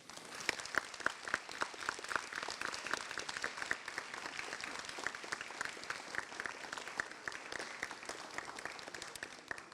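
A graduation crowd applauding families and supporters, dense sustained clapping from many people heard from a distance, fairly faint but continuous throughout, with some crowd noise mixed in.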